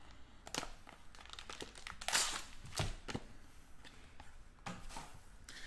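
Plastic wrapper of a 2019 Gold Rush Premier Players football trading card pack crinkling and tearing open up close, a run of sharp crackly rustles with a louder rip near the middle and scattered crinkles after.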